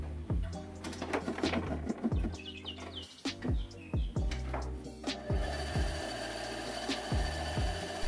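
A woodworking bandsaw with its table tilted to 45 degrees cuts 3x3 puzzle cubes in a series of sharp rasping passes and taps over a steady motor hum, and the blade drones on alone afterward.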